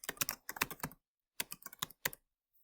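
Bursts of computer keyboard typing while entering a workspace name in Photoshop, two quick runs of close, crisp key clicks separated by a short pause.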